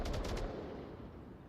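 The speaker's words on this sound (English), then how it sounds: "Gunshots from Just Do It just to try and draw out these defenders." Gunfire in the VR shooter game Onward, a quick burst of four rapid automatic shots at the start that rings off into a fading echo and quiet background.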